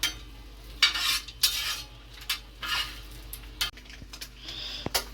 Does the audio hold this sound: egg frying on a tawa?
yes